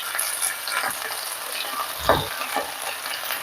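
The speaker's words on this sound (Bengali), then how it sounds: "হালকা আলু ফুলকপিগুলো ভেজে নিচ্ছি।" Potato and cauliflower pieces frying in not-yet-fully-hot oil, giving a steady soft sizzle with occasional stirring scrapes and one brief louder clatter, close by with no talk.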